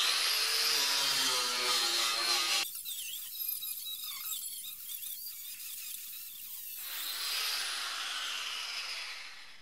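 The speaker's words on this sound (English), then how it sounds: "I wire-wheeled the area with the grinder" A grinder fitted with a wire wheel scours rust off the body of a BMW E30 325i, a harsh high-pitched scraping whine that runs loud, drops back for a few seconds mid-clip, then swells again toward the end.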